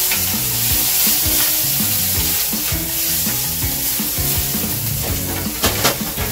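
Instant yakisoba noodles seasoned with black pepper are stir-fried hard in a pan, giving a loud, continuous close-up sizzle and hiss with constant stirring scrapes.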